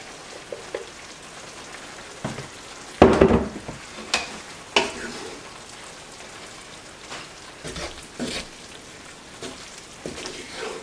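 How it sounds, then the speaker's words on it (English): Chicken broccoli pasta gets stirred in a hot pan after milk and Parmesan are added, giving wet squelches, scrapes and a few sharp clacks over a soft sizzling hiss, close and with no speech. "I'm just going to stir this in as carefully as I can."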